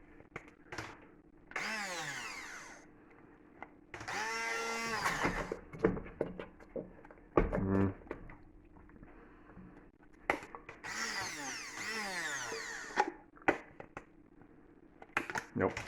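A faulty hand blender motor whirs in short, loud bursts that start and stop repeatedly, each burst whining up and cutting out, with quieter kitchen gaps in between.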